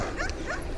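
A dog gives two quick yipping barks close by, short and light, outdoors near a garage in a village, with no talking.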